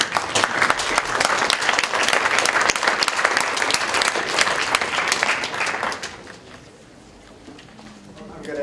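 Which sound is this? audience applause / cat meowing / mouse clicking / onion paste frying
audience applause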